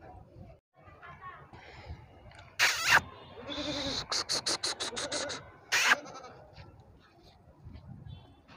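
A Barbari female goat bleats several times in a yard in Aurangabad, Maharashtra, with loud, wavering, stuttered calls standing out over background chatter and distant traffic.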